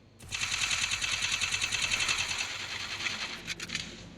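Rapid automatic gunfire in a shooting video game: a loud, steady rattling burst of quick shots lasting about two seconds, then thinning into a few scattered, sharper shots near the end, with no voices.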